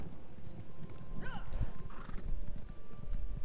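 A horse in the video game The Elder Scrolls Online gallops with steady rhythmic hoofbeats, and it whinnies once partway through, with faint game ambience underneath.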